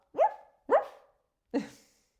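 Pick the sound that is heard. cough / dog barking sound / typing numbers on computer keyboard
dog barking sound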